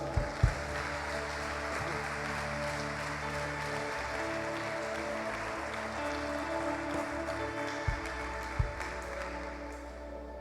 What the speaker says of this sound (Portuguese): E você pode aplaudir o Senhor aí?